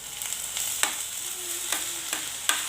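Chopped green bean leaves stir-fry in a pan for thoran with a bright steady sizzle, and a spatula gives sharp scraping strokes against the pan every second or so.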